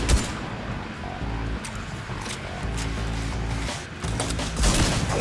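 Fortnite gunfire, a steady barrage of rapid shots layered over game effects and a droning tone, sustained at fairly close range with a few louder bursts near the end.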